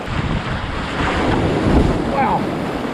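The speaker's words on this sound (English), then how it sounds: "Those wave deflectors work when you watch them hit those waves." A Pyranha Scorch Medium kayak's bow slaps through ocean waves, with steady surf wash and heavy wind buffeting the microphone and a brief splashy surge near the end.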